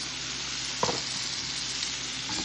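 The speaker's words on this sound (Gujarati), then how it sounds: "હવે હું અંદર નાખીશ ટમાટર, ટામેટું" Tomatoes dropped into hot oil in a pan for masala pasta set off a loud, dense, continuous sizzle and frying hiss, with a brief splash as they land and no talking.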